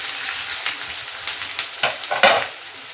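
Onions fry in hot oil with cinnamon and cardamom for an Odia chicken curry, a steady close sizzle with a few scraping stirs of a utensil and no talking.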